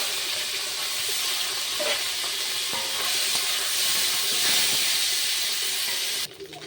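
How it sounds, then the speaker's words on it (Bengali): Small lata fish fry in hot oil in a pan, giving a continuous loud sizzling hiss with faint crackles and a few soft clicks, without any talk; the sizzle drops abruptly near the end. "এই ছোট ছোট মাছগুলো আমি এবার দেব, ভেজে নেব"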